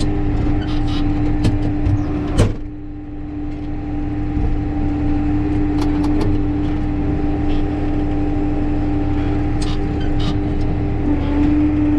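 A tractor-drawn lime spreader runs steadily with a continuous engine drone and mechanical hum, loud and close, with a few sharp clanks and knocks over the constant rumble.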